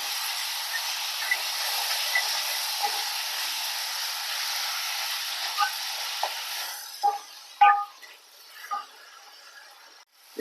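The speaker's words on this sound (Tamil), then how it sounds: "தக்காளி நல்லா வதங்குது எண்ணெயில்" Chopped native tomatoes sauté in oil over a high flame for bottle gourd gravy, making a steady frying hiss for about seven seconds that then drops away, followed by a few sharp utensil clacks.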